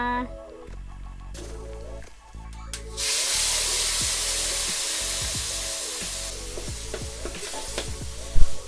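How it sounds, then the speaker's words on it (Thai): Curry paste frying in coconut cream for a Thai beef curry, a loud hissing sizzle that swells partway through, with rhythmic spatula scrapes and a steady background hum. "ก็ผัดพริกแกงด้วย หัวกะทิกันก่อนเลยนะค"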